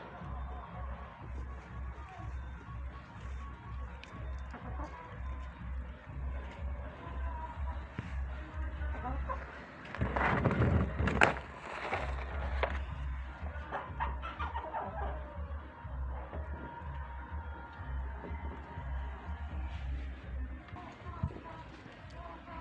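Chickens cluck and a rooster sounds amid steady farmyard noise in a coop, with a louder flurry of squawking midway through.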